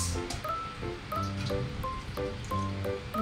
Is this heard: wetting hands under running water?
yes